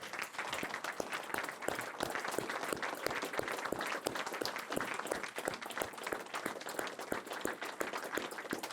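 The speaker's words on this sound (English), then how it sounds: "So let's give her a round of applause." County board meeting attendees applaud a retiring county clerk after 48 years of service, a steady round of clapping with crisp individual claps throughout, sustained at an even level.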